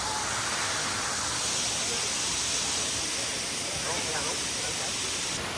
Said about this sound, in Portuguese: Bonita a cachoeira, né, gente?